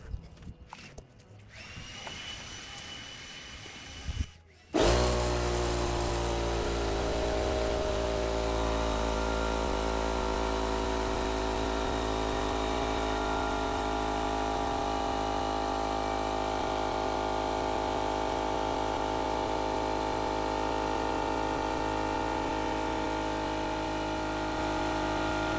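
A Husky air compressor, just fitted with a replacement pressure switch, starts up after a few seconds of quiet handling noises and runs loudly and steadily with a close droning motor hum for the rest of the clip.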